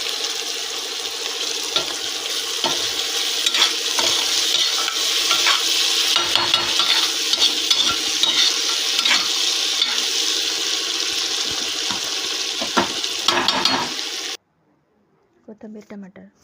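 Boiled moong beans with onion, garlic, coriander and tomato being sautéed in a pan, steady sizzling broken by repeated scraping stirs for about fourteen seconds, then a cut to near silence with faint sounds.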